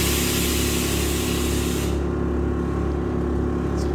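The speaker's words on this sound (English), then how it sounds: "Compressor kicks on." Air suspension compressor running steadily with a loud, constant mechanical drone and hum. A bright hiss of air cuts off about halfway through while the motor keeps going.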